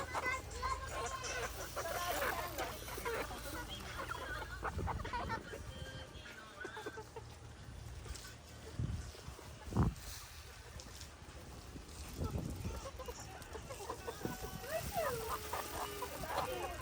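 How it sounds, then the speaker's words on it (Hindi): Hens clucking and murmuring close by on a farm, with scattered soft calls and rustling throughout, a few sharper squawks standing out. "यहाँ पे हम अपनी मुर्गियों को लेके आए हैं"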